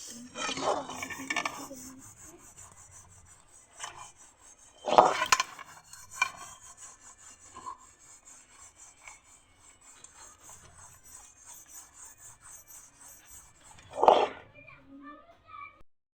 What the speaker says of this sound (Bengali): কড়াইটা মেজে নিচ্ছি